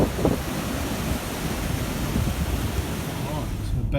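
Strong breeze buffets the microphone over crashing surf on a rocky coastline, a continuous loud roar of wind and waves throughout.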